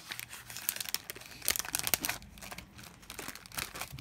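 A thin metal foil cover for a mini art journal crinkles and crackles close up in bursts of bright rustling, with a brief quieter gap before more handling.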